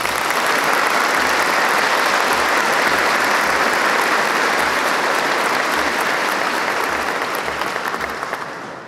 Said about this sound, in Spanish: Un aplauso para ustedes